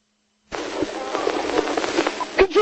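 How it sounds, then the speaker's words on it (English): A police officer's gun fires a quick run of sharp, crackling shots, loud and closely spaced, with a couple of heavier cracks near the end, captured on a thin, band-limited recording. "shots fired!"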